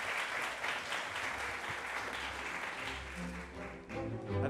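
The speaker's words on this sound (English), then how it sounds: "So a round of applause for Dr." Graduation ceremony audience applauding, a fairly quiet but steady crowd clapping that carries throughout, with soft low tones and faint voices mixed in toward the end.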